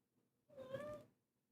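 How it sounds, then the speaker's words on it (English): A house cat gives a single clear meow, close by and fairly soft, lasting about half a second. Near silence surrounds it. "My cat Yoshi's in here"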